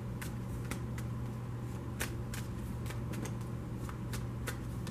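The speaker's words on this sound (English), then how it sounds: "so I'm only going to shuffle for a moment" Tarot cards being shuffled briefly by hand, giving a run of soft, irregular riffling clicks and snaps over a steady low hum, with no one talking.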